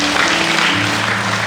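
A church congregation claps in praise during a worship service, a loud, dense wash of applause with a low steady tone underneath, sustained throughout.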